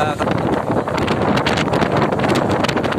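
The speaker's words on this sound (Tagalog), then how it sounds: "malakas ang hangin kaso lang yung ulan kunti lang" Strong typhoon wind with only light rain buffets the microphone in Isabela in loud, continuous gusts, a rough roaring rush that never lets up.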